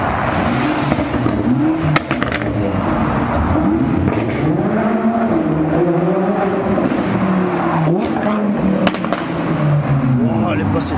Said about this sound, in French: Wow, elle est passée tellement près. Un GT3.